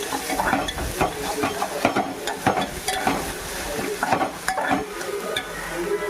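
Ginger garlic paste frying with chopped vegetables in a pan while being stirred for pipes biryani, a busy continuous sizzle with frequent scraping spatula strokes and clatter, close and fairly loud.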